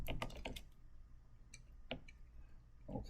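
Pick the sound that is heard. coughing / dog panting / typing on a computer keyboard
typing on a computer keyboard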